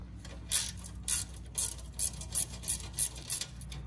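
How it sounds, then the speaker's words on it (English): A 10mm wrench works a bolt loose during a front mount intercooler install on a Fiat 500 Abarth, giving a run of sharp, evenly spaced ratcheting clicks, about eight in a row, close and crisp. "I'm gonna take a 10mm wrench to remove it."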